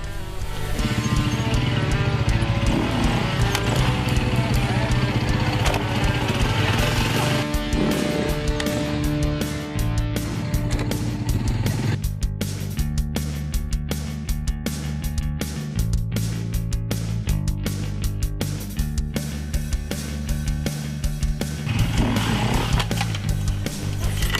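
An enduro motorcycle working over a tyre obstacle, the engine loud and close, revving and blipping in repeated surges as the rider lifts the front wheel and pushes the bike over, with music playing underneath.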